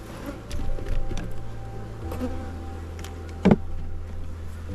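A low, steady insect drone hums throughout, honey bees buzzing close by at an open hive during inspection, with a brief knock or thump partway through.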